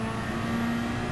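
Rothmans-liveried Porsche race car in Gran Turismo 7 at the Nordschleife, its engine droning steadily at high revs as it accelerates, a continuous close whine with no talk.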